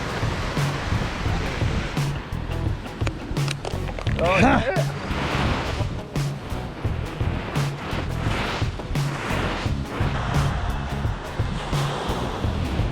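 Surf rolls and washes onto the shore in steady, roaring waves, with one louder crash partway through and a brief spoken exclamation.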